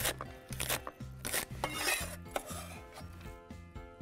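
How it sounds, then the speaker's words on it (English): Chinese chives cut into quarter-inch pieces on a board, a steady rhythm of a dozen or so knife chops with bright clicky impacts, close and fairly loud, with no talking. "We're gonna chop about, they're about 1/4 inch pieces."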